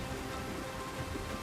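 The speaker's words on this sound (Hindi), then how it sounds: "हल्की हल्की पानी की बूंदें गिरने लग जाती हैं" Light rain falling in the mountains at Chitkul, a steady, even patter of drops with wind, filling the short stretch at a constant level with no voices.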